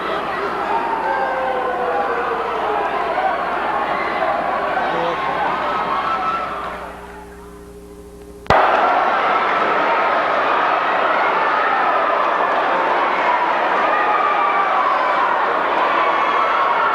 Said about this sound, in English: There you can see the Norristown crowd.